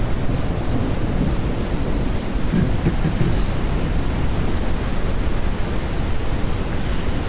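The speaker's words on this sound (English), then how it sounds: "Oh, man, it's raining." Heavy rain pours steadily in the Ranch Simulator video game, a dense, loud, unbroken hiss with a low rumbling undertone like distant thunder, continuing evenly from start to finish.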